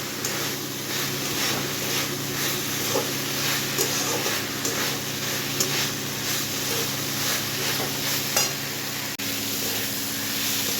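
Spices sizzling steadily in hot oil in a pan while being stirred for a Bengali banana flower curry (mochar ghanta), a continuous hiss with occasional clinks, fairly loud and close.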